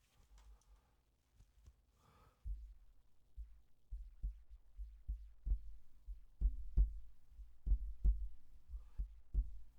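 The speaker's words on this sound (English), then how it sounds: "As we hear the keeper's heartbeat." A goalkeeper's heartbeat sound effect during a football penalty shootout, a steady series of deep low thuds that starts softly and grows louder and more insistent over about ten seconds, with no talk.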